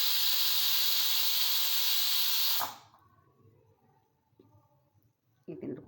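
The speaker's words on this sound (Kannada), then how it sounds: "1 ಸಿಟಿ ಆಗ್ಬೋದು, 2 ಸಿಟಿ." A faulty pressure cooker lets off a loud, steady hiss of escaping steam for about two and a half seconds, then cuts off abruptly, leaving quiet room noise and faint handling sounds.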